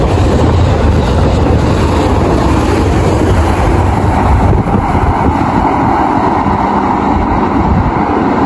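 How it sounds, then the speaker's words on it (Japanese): A non-stopping rapid train roars through a small station at close range, a loud continuous rumble with rattling wheels that eases slightly toward the end. "京都方面から通過列車がやってきました。"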